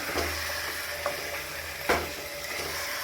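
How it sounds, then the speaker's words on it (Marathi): Mutton seasoned with salt, turmeric and curd is stirred in a frying pan, with a steady sizzle and a few soft scrapes of the spoon against the pan. "याचं पाणी सुटेपर्यंत आपण ह्याला चांगलं असं हलवून घेऊया"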